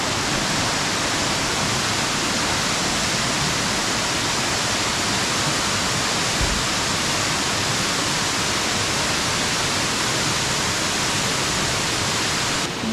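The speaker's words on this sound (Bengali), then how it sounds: "রাস্তার ধারেই এসে গেছি রিম্বি ওয়াটারফলস।" Rimbi waterfall near Pelling, Sikkim, roars by the roadside as a loud, constant rushing wash of falling water that holds unbroken and steady from start to finish, with no voices.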